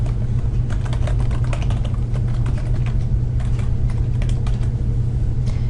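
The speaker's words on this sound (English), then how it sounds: "I'll go ahead and type in the address information at the top of page 175" Rapid, steady keystrokes on a computer keyboard as address details are typed in, close and continuous over a low constant hum.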